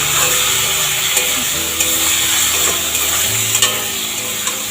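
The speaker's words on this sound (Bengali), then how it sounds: "এখন আমি সবজিটাকে পুরো কষাচ্ছি" Loud, continuous sizzling of vegetables sautéing in a pan with onion, garlic and tomato, with scattered clicks and scrapes of stirring close by; no voices.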